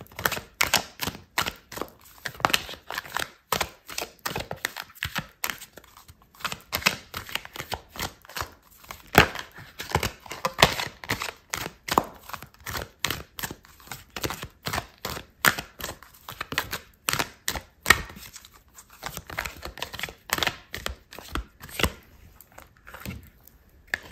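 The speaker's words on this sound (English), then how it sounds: "I'm gonna pull out another card for you" Tarot cards shuffled and drawn from the deck, a long run of crisp, rapid snapping and tapping clicks in irregular bursts, close and fairly quiet, with no talking.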